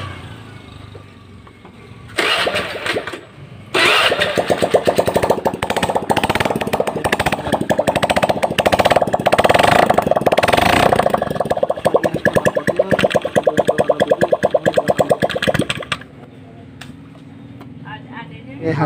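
Honda Vario 110 scooter engine running after a piston replacement to cure white exhaust smoke: a loud, dense, steady mechanical drone with rising revs from about 2 to 16 seconds, with quieter idle and handling noise before and after.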